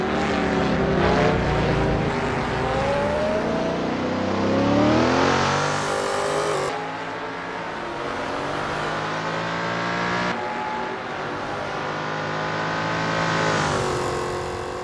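NASCAR race cars roar around Sonoma Raceway in the racing game Assetto Corsa, loud engines droning and shifting pitch as cars pass close by, with sweeping doppler changes and gear shifts throughout and no talk.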